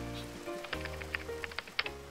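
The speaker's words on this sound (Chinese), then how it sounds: "上午九点多钟刚来的时候下了好大的雨，现在接近中午了，雨小了很多" Light rain falls on the outdoor antique market at Toji temple in Kyoto, with faint scattered drops tapping on nearby surfaces over a soft background of steady tones.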